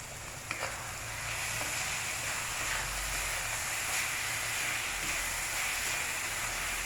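Cooked chemmakaya pieces frying with mutton keema in a pan, a steady soft sizzle and hiss that runs evenly throughout without talk.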